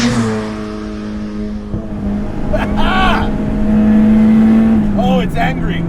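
Turbocharged Honda Del Sol revving hard in several loud, rising bursts close by, its engine note climbing and falling sharply, with excited voices talking over it.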